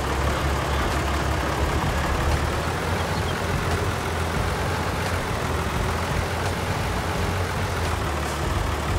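Kubota tractor engine in Farming Simulator 22, plowing a rice paddy in hilly forest country: a steady, loud, low diesel drone that holds even and unbroken throughout, with no talk over it.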